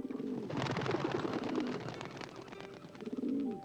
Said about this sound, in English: Don't chase the pigeons.